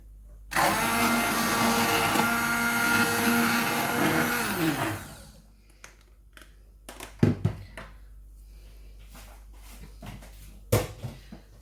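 A blender purees cooked strawberries in one loud, steady whir for about four seconds, then winds down to a stop, followed by a few scattered kitchen knocks and clatters.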